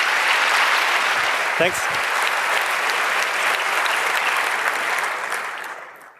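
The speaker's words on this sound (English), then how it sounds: "Give a warm applause." Full, sustained applause from a talk audience welcoming a speaker on the dark cosmos, steady and loud before tapering off at the end, with a brief voice cutting through midway.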